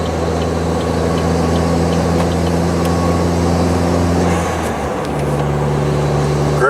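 A car cruises steadily at about 58 mph on a road under repair on a smoky, hazy morning, its engine hum droning close and even before dropping in pitch as it shifts into sixth gear.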